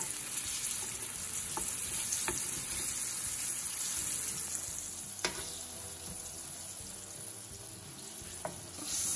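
Cucumber slices fry in a pan with a steady, close hiss and sizzle throughout, broken by a few sharp crackles and pops, with no one speaking.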